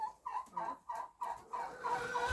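A domestic turkey gobbles while strutting and dancing in a farmyard, giving a run of about six short, rhythmic, warbling calls, close and fairly quiet, with no talk.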